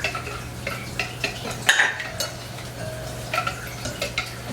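Dry sugar, flour, salt and baking soda are stirred together in a bowl for a Texas sheet cake batter: soft, steady scraping with small utensil ticks over a low constant hum.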